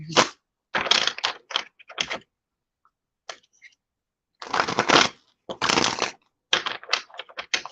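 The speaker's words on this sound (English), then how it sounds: "I got these new cards and I've been trying to shuffle them and it's still so stiff" New, stiff tarot cards are shuffled close up in several separate riffling bursts broken by short pauses, crisp and papery with no talking.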